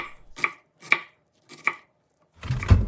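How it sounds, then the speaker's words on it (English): Three crisp knife chops on a cutting board as an onion is diced, at a slow, uneven pace, followed by a rougher scraping clatter; close up, no voices. "Start by chopping and dicing one small onion."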